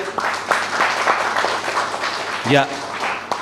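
Congregation at a Telugu Easter church gathering claps for God, uneven scattered claps heard under a preacher's voice that continues speaking through them, with a louder voiced outburst near the end.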